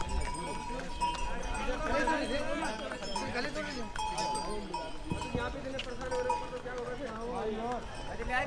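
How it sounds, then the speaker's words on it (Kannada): Horses plod along the crowded pilgrimage trail to Kedarnath, their hooves clopping steadily under constant chatter from a busy crowd, with bells jingling at moderate distance throughout. "ಕುದುರೆ ನೋಡ್ರಿ ಎಷ್ಟು ಹೋಯ್ತಾವ ಕುದುರೆ ಇಲ್ಲಿಂದ"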